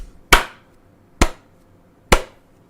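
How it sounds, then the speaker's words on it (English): Three sharp hand claps used to sync a recording ring out alone, evenly spaced about a second apart, each crisp and close with a short decay into quiet. "And my sync clap."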